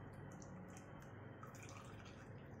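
Jaggery water is poured into a pot, a steady hissing pour with light dripping and splashing, moderately quiet and continuous with no talk.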